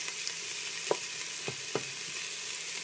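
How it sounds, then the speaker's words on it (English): Onions sizzle in a pan on high heat, a steady close hiss with a few soft stirring taps, no voices. "Now as I've got it on a high heat, these are starting to brown off quite nicely."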